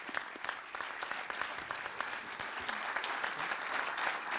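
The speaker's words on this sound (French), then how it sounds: "je crois qu'on peut encore l'applaudir" Audience applause at a French football awards ceremony, a steady, moderately distant patter of many hands that swells slightly toward the end, with no speech over it.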